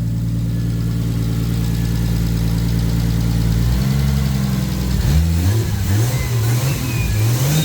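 Turbocharged Lexus IS300 engine idling steadily and loud, a smooth low rumble that shifts pitch partway through as the idle changes, with no talk over it.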